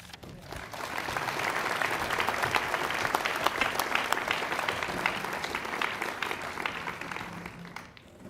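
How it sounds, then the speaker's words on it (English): Sustained applause from a large audience at a 2024 graduation ceremony, a dense steady wash of many hands clapping for about eight seconds before tapering at the end. "let's give one more round of applause"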